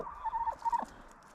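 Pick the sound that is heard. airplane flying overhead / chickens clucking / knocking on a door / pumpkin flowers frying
chickens clucking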